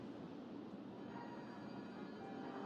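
A roller coaster train in the Planet Coaster video game rumbles along its track at speed into the brakes, a steady, faint rolling roar with no talk over it.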